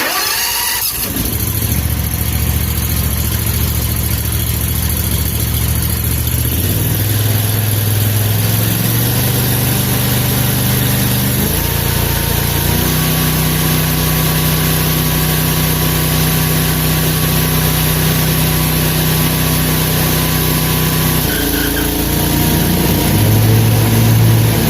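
Spartan SRT-PRO zero-turn mower engine starting and running, a loud, steady mid-pitched drone with throttle changes shifting the tone partway through.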